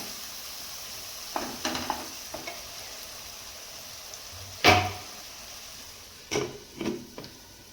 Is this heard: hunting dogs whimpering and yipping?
no